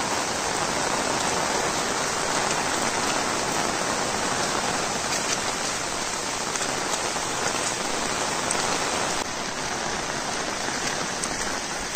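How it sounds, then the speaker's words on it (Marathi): Heavy monsoon rain in a Kokan village, pouring down in a dense, continuous roar of drops on surfaces, loud and unbroken from start to finish. "पाऊस मस्त काल रात्रीपासून जबरदस्त पाऊस पडतोय."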